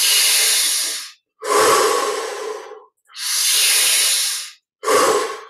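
Slow, deep breaths during a guided meditation practice, four long airy exhales and inhales close up with short silent pauses between them, no talking.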